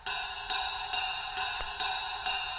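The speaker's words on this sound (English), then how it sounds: "I started it off with the ride cymbal" A ride cymbal strikes at an even, steady pace, each shimmering ping ringing into the next, played alone and close.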